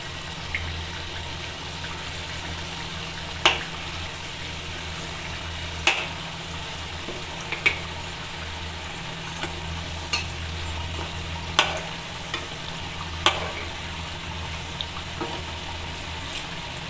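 Food fries in a pan for Teej, a low continuous sizzle under a steady hum, broken by occasional sharp clicks and taps of a utensil against the pan.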